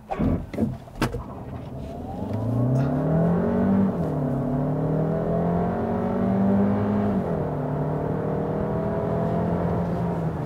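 A Skoda Kodiaq PHEV Sportline car engine revs up and accelerates steadily, its rising tone holding loud and close for several seconds after a few brief knocks at the start.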